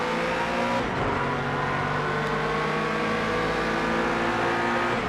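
A racing car engine in Project Cars 2 drones loudly and steadily at high revs, with a brief dip in pitch like a gear change, chasing a Diablo with no talk over it.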